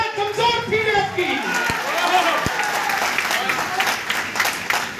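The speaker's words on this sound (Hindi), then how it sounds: "तालियां कमजोर थी आपकी।" Audience clapping at a memorial anniversary cultural programme, steady and fairly loud throughout, mixed with crowd noise and a voice speaking over it.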